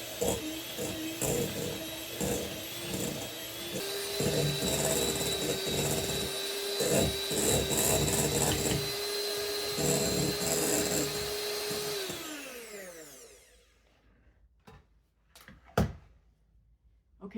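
A block of cream cheese for a Heath pie is mixed with a steady motorized whir that holds for several seconds, then winds down and stops, followed by a few sharp knocks.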